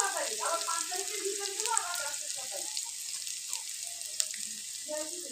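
Chopped ginger and slivered garlic hitting hot oil in a pan for egg korma, giving a steady close sizzle and crackle that stays even throughout with no talking.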